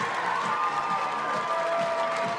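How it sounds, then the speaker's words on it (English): A stadium crowd in Canberra roars and cheers steadily after Canberra United score a goal against Sydney FC, a dense, continuous wall of noise with an announcer's voice running over it throughout. "the crowd here in Canberra absolutely delighted for the youngster"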